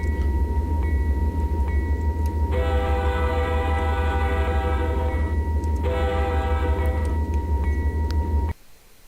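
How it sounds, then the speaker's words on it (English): An empty grain train in the Open Rails train simulator rumbles steadily while departing Revelstoke in winter, its horn sounding in two long blasts, loud and close, before the engine noise cuts off abruptly. "We are leaving Revelstoke. Empty grain train, 300."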